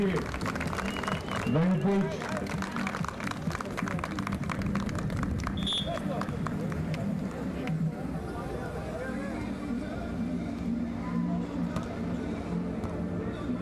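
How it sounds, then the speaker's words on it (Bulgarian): Spectators applaud at the third-place tennis match of the Futures tournament in Sveti Vlas, 2025, a steady patter of clapping running under continuous commentary before it thins out. "Айде малко аплодисменти да ги окуражим"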